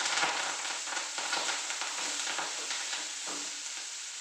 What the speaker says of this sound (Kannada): ಈಗ ನಾನು ಇದ ಮೆಂತೆ ಐತಲ್ಲ ಮೆಂತೆ ಹಾಕೋತೀನಿ